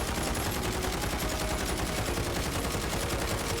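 CR56 assault rifle fires in rapid bursts in a video game, a dense, loud, sustained volley of automatic shots with no talk.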